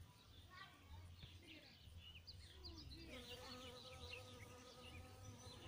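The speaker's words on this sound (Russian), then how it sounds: "Ой, тут и пчелка работает." A bee buzzes among plants in a spring vegetable garden near raspberry bushes, a faint steady drone close by, with birds calling in the background and someone talking quietly.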